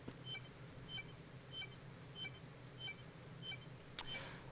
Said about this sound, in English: There was a beeping sound just now.